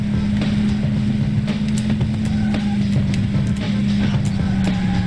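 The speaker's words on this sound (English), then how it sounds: "It's actually a pretty good racing game" Cars in a racing video game on a Raspberry Pi 3 B+ make a steady droning engine hum, with a strong low tone and scattered clicks over the top, continuous and fairly loud.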